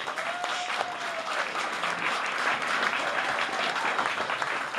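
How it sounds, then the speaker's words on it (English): Audience applause for sponsors at a live debate event; a fairly steady wash of clapping from a moderate crowd, with a faint tonal whine briefly audible beneath it. "Give them a round of applause, please."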